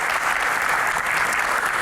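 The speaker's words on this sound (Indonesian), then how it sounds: "Tepuk tangan ya." A studio audience at a talk show claps steadily and enthusiastically, a dense, even wash of applause filling the room from start to finish.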